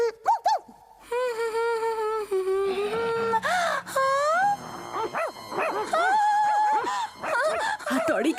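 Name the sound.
cartoon character imitating a dog barking and whimpering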